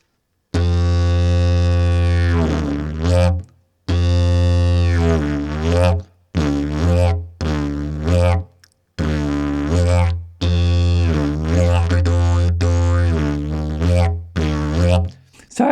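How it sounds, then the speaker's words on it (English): A didgeridoo sounds its natural low, buzzing drone in several long blasts separated by short breath pauses, the pitch dropping slightly within the later phrases, loud and close. "But all it is it's the sound of the drone, the natural drone, but the pitch drops slightly."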